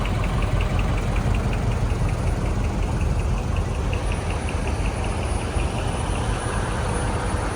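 A kaido racer car idles at the Daikoku PA car meet in Tokyo, giving a loud, steady, close engine drone with a deep low rumble that stays constant throughout and has no voices over it.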